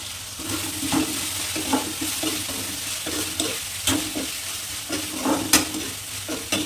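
Cauliflower and prawn masala curry sizzling and frying steadily in a pan, with repeated stirring clinks and scrapes near and clear, and no voices.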